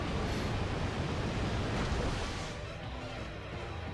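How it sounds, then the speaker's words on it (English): Muddy Water move effect in Pokemon Ultra Sun and Ultra Moon, a loud continuous rushing wash of water noise like surging waves that eases slightly toward the end, with no talking. "Tapu Lele going for Muddy Water"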